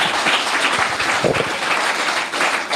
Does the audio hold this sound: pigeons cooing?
no